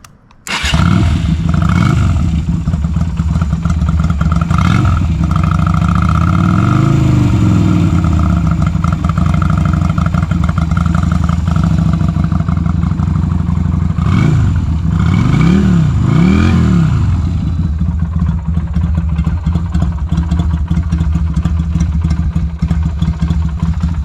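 A Yamaha Virago 250 twin-cylinder motorcycle runs close by, its exhaust thrumming steadily and lumpily for a long stretch, with a few throttle blips swelling and easing partway through.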